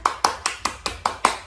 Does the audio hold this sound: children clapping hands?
yes